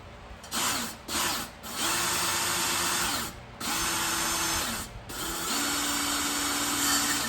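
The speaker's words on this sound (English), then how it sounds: "And use a drill." An electric drill spins an engine valve against its seat in a 5.3 LS cylinder head for a 1991 Chevy truck, lapping it in. The drill gives several steady whirring bursts separated by brief pauses, loud and close.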